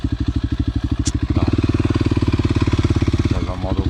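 Motorcycle engine thumping at a fast, even pulse while riding, loud and close, with the beat quickening briefly as the throttle opens and a voice talking over it.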